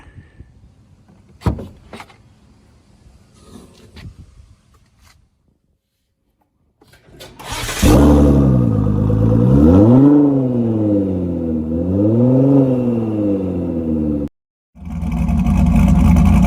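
A starter clicks and cranks, then a car engine catches with a loud roar, revs rise and fall twice while idling close by, cuts briefly, then restarts.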